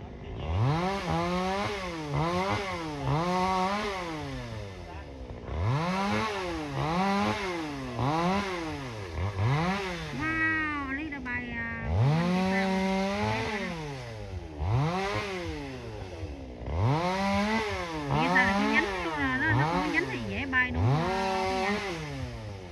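A chainsaw cuts into an old sao tree during climbing and limb pruning, its engine revving up and down in repeated loud, sweeping surges with brief idle dips between cuts.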